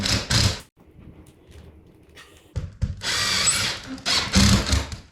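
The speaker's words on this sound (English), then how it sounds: "So what you do is you put your first screw in." Power drill driving a screw into ceiling plasterboard, with a short whir, a pause with faint handling, then a longer loud burst of the drill biting in and finishing near the end, close to the microphone and without talk.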